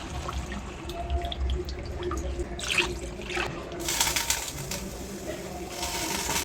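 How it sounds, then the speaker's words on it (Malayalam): Water poured into a pot of home-style rasam, a steady rushing and splashing pour that swells louder toward the end, with faint background sounds and no talk. "ഇനി നമുക്കിതിലോട്ട് ആവശ്യത്തിന് വേണ്ട വെള്ളം ഒഴിച്ചു കൊടുക്കാം"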